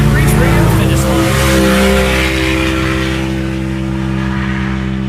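A qualifying race vehicle at the Big Sky 200 in Broadview, Montana crosses the finish line with a loud, sustained engine roar and some tire noise, close and steady throughout, while an announcer talks over it.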